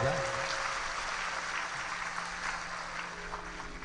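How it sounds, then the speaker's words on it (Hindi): An audience at a live Shiv Mahapuran religious discourse claps steadily, a dense wash of applause that fades slightly and continues throughout. "जोरदार ताली बजाओ"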